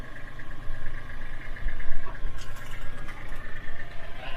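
A John Deere tractor engine idles outdoors in a steady, low rumble at moderate level, running continuously without revving.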